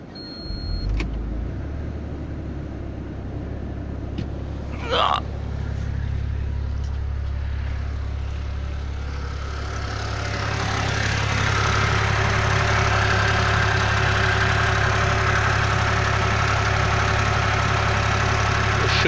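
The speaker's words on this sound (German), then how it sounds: "Jetzt starte ich die Kiste mal eisekalt." A 3.2 Q4 engine in an Alfa Brera is cold started from ice-cold with a rattle fault. A short starter whir gives way to a close, steady idle that grows louder and rougher after several seconds.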